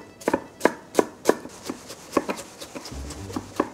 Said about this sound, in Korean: 당근은 채 길쭉길쭉하게 밀어서 나란히 놓은 뒤에